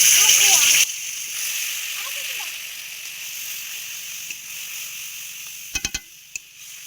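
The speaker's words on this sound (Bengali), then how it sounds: "এবার দিয়ে দিচ্ছি জল" Water poured into a simmering pointed gourd (potol) curry made with coriander powder, spices and sour yogurt, a steady soft splashing hiss after a brief voice at the start, ending with a few sharp clinks.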